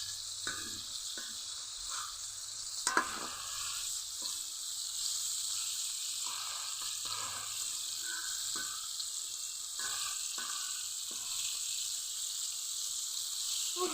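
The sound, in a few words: chicken pieces frying in oil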